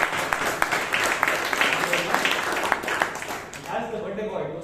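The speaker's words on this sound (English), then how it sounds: "A round of applause for all the role takers and the committee." A round of applause for the role takers and committee at a Bangalore Toastmasters club meeting: dense, steady clapping from a room of people for about four seconds, thinning out at the end.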